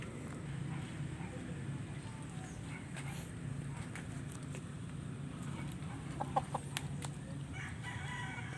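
Native chickens kept for meat cluck and crow faintly around a farmyard, with scattered bird calls over a quiet, steady outdoor background.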